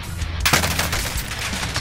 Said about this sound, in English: he has a minigun!